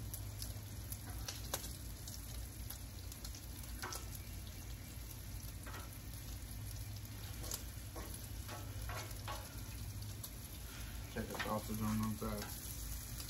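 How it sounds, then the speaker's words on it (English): Bacon and sausage fry on a Blackstone flat-top griddle with a soft, continuous sizzle and scattered crackling pops, heard quietly and without talk. "Check on our bacon and our sausage."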